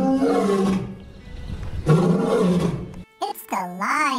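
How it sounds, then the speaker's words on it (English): A lion gives two long, deep roars in a row, loud and close, followed by a short burst of cheerful music, as part of a children's animal quiz. "It's the lion."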